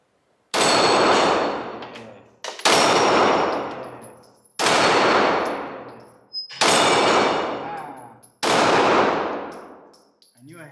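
A Ruger SR9 9mm pistol fired five times at outdoor targets: five loud, sharp reports about two seconds apart, each with a long ringing decay, and faint metallic pings from the targets after some shots.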